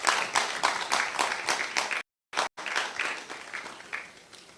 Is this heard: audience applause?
yes